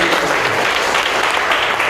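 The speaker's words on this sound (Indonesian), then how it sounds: "Tepuk tangan dulu dong." An audience at a university lecture on cardiopulmonary resuscitation bursts into loud, dense applause that holds steady and fills the room throughout.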